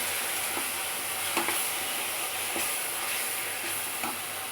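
Chicken and ground masala fry in hot oil for a gongura chicken curry, giving a steady, close sizzle with brief stirring scrapes and no talking.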